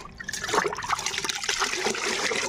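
Moringa leaf water is poured into a container of water and mixed for a pest-free garden spray, giving a steady close liquid trickle and splash that runs throughout with no talking.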